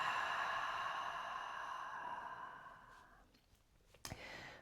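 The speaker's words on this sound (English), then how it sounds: "big inhale in, big expansion and long breath out" A slow, drawn-out exhale during seated chair-yoga breathing fades gradually over several seconds, soft and close, followed by a faint shift of movement with no speech.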